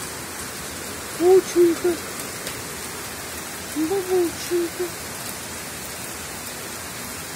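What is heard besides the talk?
heavy rain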